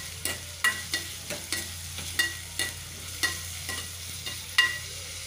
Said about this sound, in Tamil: பாருங்கள் கத்திரிக்காய் வதங்கிட்டு இருக்கு